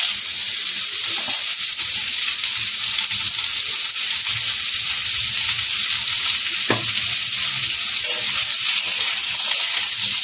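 Young jackfruit pieces fry in oil, giving an even, loud, unbroken sizzle with faint stirring scrapes and one sharp clink partway through.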